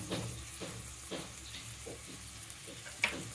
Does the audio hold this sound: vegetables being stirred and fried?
yes